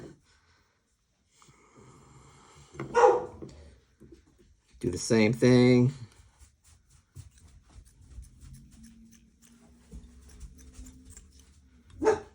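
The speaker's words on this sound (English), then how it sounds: "She's barking at something." A puppy barks in the background of an indoor workspace, a few sharp yips around the middle and one more at the end, mixed with brief nearby talk and quiet handling noise.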